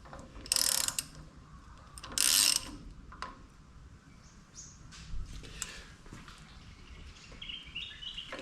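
A ratchet tightens a nut on a rear wheel hub during a motorcycle restoration, giving two short, sharp bursts of close mechanical clicking followed by quieter workshop handling noises.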